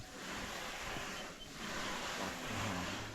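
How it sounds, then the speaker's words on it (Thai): Steady wind blows outdoors in a rural setting, a continuous broadband rush that swells and eases slightly, loud and close with buffeting against the microphone and no voices. "มีลมด้วย"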